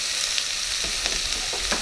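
Onions, carrots and sweet potatoes fry in a pan with bacon, giving a steady close sizzle broken by a few soft stirring scrapes.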